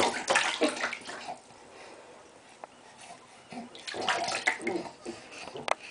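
A small child splashes bathwater in a tub, irregular bursts of sloshing and slapping water up close, with quieter pauses between splashes.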